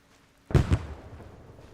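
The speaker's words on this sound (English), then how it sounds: "It sounds like it's sniper fire from over there" Sniper fire in Arma 3 rings out as two sharp, loud cracks in quick succession, each followed by a fading echo that tails away into quiet.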